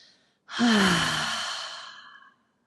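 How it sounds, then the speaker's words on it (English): A single long, deep exhale through the mouth during a relaxation breathing exercise, starting sharply after a moment of silence and fading gradually over about two seconds, close and clear with nothing else heard. "exhaling it all out through the mouth"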